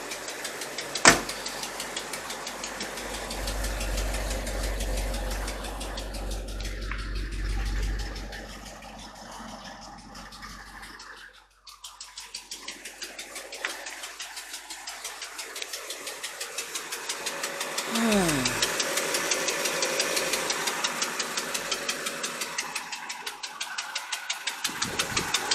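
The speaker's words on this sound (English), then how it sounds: "Got an exhaust leak." A Chevrolet El Camino engine with an exhaust leak runs near and loud, a rough, knocking idle that briefly drops out, then resumes with a rising rev.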